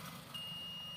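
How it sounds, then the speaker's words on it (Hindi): A multimeter beeps a steady continuity tone while a lead tests an e-rickshaw controller wire against ground, a thin sustained beep over a low background hum. "बीप की आवाज़ आ रही है, इसका मतलब हमारी ये लाइन बिल्कुल ओके है"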